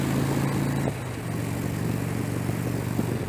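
Traffic heard from a car driving past a bus: a steady low engine drone and road rumble throughout, dipping briefly just before the midpoint, with no voices.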